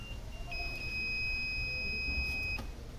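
A buzzer on a school science-exhibition laser security model with an LDR sensor, sounding a steady high electronic tone for about two seconds over low room noise before cutting off.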